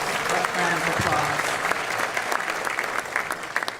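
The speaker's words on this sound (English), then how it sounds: "So give Mark a big round of applause." Applause from an audience at a civic event with the DC mayor and a football team's president, a sustained wash of many hands clapping, with a voice speaking under the clapping early on before it thins toward the end.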